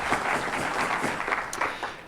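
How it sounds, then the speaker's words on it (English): Audience clapping at a Rotary Club of Tucson meeting for member David Lovitz, a steady mid-level patter of applause lasting about two seconds with no talking over it. "We can clap for David."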